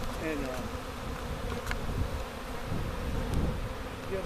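A honey bee swarm hums and buzzes steadily at close range as the bees crowd into a box, a dense continuous drone with occasional louder passes near the microphone.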